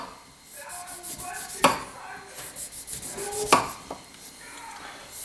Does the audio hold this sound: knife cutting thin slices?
yes